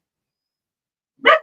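A dog gives one loud, sharp bark close by after a second of silence, with nothing else audible.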